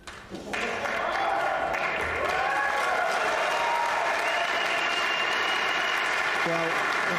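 A pool hall crowd applauds a good pot during the 2024 World Pool Masters final, steady clapping that swells quickly and holds for several seconds, with faint voices mixed in.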